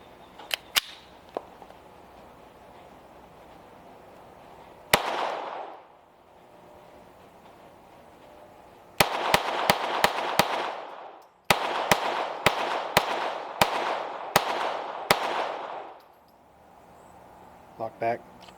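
Sharp, close gunshots from a Sig Sauer P322 .22LR pistol at an outdoor range, a single shot and then rapid strings of cracks with short echoing tails, speech around them.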